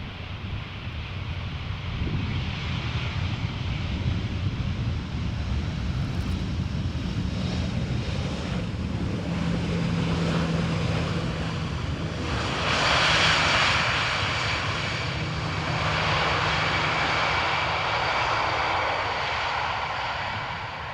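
A Lufthansa Airbus A319 arriving from Munich at Amsterdam Schiphol Airport, its jet engines a steady broad roar throughout, mixed with wind buffeting the microphone and swelling slightly mid-pass.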